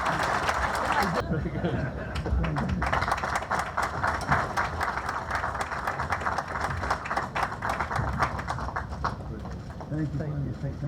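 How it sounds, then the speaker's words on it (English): A round of applause at a Queen's Award presentation ceremony, with scattered sharp claps across most of the stretch under a voice. "Rami, let's have a round of applause"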